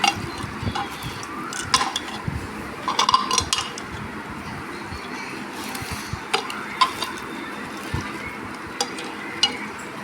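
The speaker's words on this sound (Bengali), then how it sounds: "এবারে মাখিয়ে দিলাম ঘি বাটার তেল মশলা সবই মাখিয়ে দিলাম" Rice coated with ghee, butter, oil and spices for biryani is mixed in a pot, producing repeated scraping and clinking of a spoon against metal over a faint frying hiss, close and irregular.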